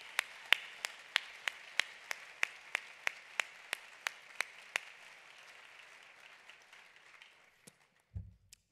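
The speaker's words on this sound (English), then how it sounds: "Can we give our speaker another round of applause?" A keynote audience at a conference opening session gives a round of applause. It comes through as a faint run of evenly spaced single claps that stops after a few seconds, followed by a soft thump.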